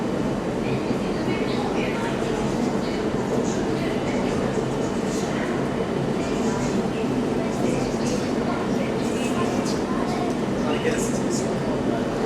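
A busy London Underground train pulls out of King's Cross St Pancras, a continuous loud rumble with clattering and scattered higher screeches, crowd noise mixed in beneath.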